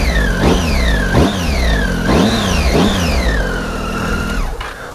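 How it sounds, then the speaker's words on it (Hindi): Triumph Tiger 1200 motorcycle exhaust revved repeatedly, four rising-and-falling blips with a deep, throaty growl, loud and close, settling toward idle at the end. "ओह एक अलग सी डीप सी ग्राउल है. थोड़ा सा डीपर एग्जॉस्ट नोट है इसका."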